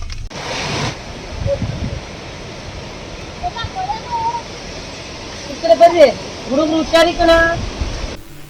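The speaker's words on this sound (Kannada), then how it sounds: "ಇಲ್ಲಿ ಇವಾಗ ನೀರು ಬಿಟ್ಟಿದ್ದಾರೆ ಅಂಜನಾಪುರ ಡ್ಯಾಮಲ್ಲಿ" Water released from Anjanapura dam makes a steady, distant rushing roar with some wind buffeting, while people talk over it intermittently.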